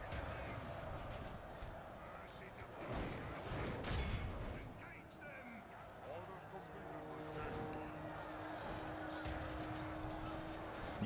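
Distant gunfire and artillery rumble in a battle video game where Blue Mountain dwarfs fight on a flank, a steady clatter of shots under background noise with a voice talking over it.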